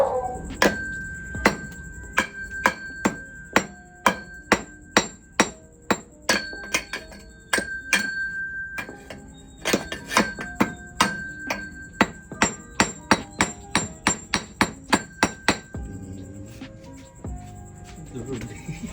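A hammer strikes metal again and again in quick, ringing blows, sharp clanks in steady runs with brief pauses, while people talk in the background.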